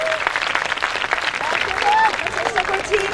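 A crowd at a school teachers' game show applauds loudly and continuously, with dense clapping from many hands and voices mixed into the noise.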